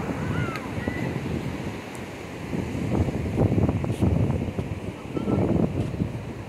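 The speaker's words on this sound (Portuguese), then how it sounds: "Escuta o barulho do mar." Ocean waves roll onto the sandy beach at Praia Quatro Ilhas in Bombinhas, Santa Catarina, a broad rushing surf that swells and recedes under wind buffeting the microphone, with faint distant voices.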